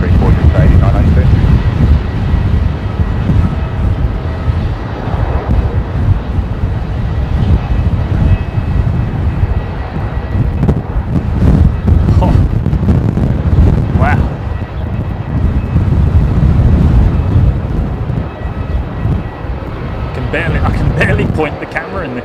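A Fiji Airways jet on the move at Melbourne Airport gives off a steady, loud jet roar mixed with wind buffeting on the microphone, while people talk over it throughout.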